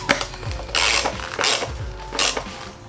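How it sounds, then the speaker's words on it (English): A wrench ratcheting as bolts are tightened on a Memphis Shades Road Warrior motorcycle fairing, giving close, loud clicking ratchet bursts in a few quick strokes. "We're gonna take our wrench, tighten everything up."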